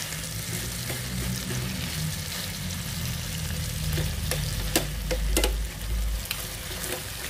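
Chicken pieces frying in a pan, pressed flat as they brown, give a steady close sizzle with crackles and a few sharp pops and spatters toward the end; no one speaks.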